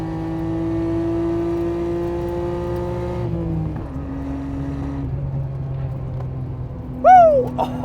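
Nissan Skyline R34 GT-R engine holding a loud, steady high-rev drone while driving, then dropping pitch as revs fall, with a brief chirp near the end, close and dominant with no talk.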